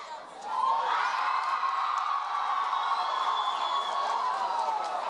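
A roomful of students at a DECA district event cheer and whoop loudly, a sustained mass of shouting voices that swells up and holds for several seconds.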